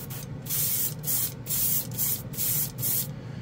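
An airbrush sprays decanted spray paint in short repeated bursts of hiss, about five even pulses, close and fairly quiet, powered by a 2D compressor.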